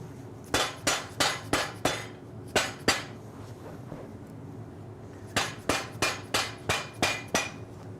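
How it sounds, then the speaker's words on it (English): A mallet smacks a shoe in a cobbler's workshop: a quick run of six sharp, loud knocks, a pause with a couple of softer taps, then another run of six evenly spaced strikes. "give it a smack with the mallet"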